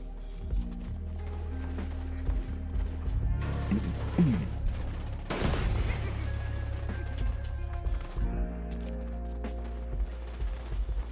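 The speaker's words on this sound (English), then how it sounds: "I hear the gunfire, diving headlong into it." Bursts of gunfire crack amid a dense, rumbling Fortnite soundscape, with a loud blast midway and clattering, galloping-like rhythms throughout.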